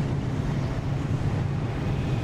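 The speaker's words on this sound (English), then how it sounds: "We're in the storm." Storm wind roaring in the driving video game Pacific Drive, a steady dense rushing noise with no breaks, heavy in the low end and filling the whole moment with no voices.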